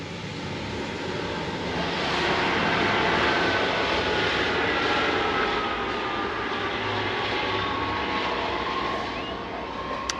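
A tractor drives past during silage cutting in the countryside beside a garden border, giving a broad, steady engine drone that swells slightly near the middle and stays loud and continuous throughout.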